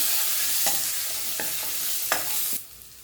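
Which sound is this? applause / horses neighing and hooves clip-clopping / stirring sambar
stirring sambar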